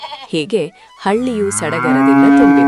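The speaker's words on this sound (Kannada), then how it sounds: "ಹಸುಗಳ ಕೂಗು" Cattle low in a village, a drawn-out moo rising loud over a steady tonal background after brief talk at the start.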